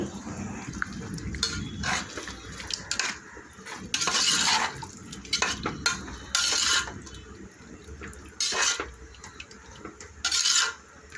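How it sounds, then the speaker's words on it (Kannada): Curd is stirred into cooked kuska rice in a pot, giving intermittent wet scraping and clinking bursts of a spoon against the vessel, close and moderately loud, with quiet gaps between strokes. "ಒಂದು ಕಪ್ ಆಗುವಷ್ಟು ಮೊಸರನ್ನು ಸಹ ಹಾಕಬೇಕು ಹಾಕಿ ಹಾಗೆ ಕಲಸಿ"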